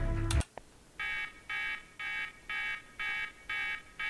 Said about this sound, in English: And the alarm's gone off.